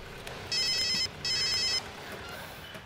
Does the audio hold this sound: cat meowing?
no